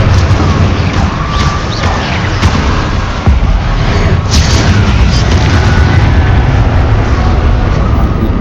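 Fiery Confringo and Incendio spell blasts in Hogwarts Legacy, a loud, continuous roar of booming bursts and rumble lasting throughout, with no clear gaps between impacts.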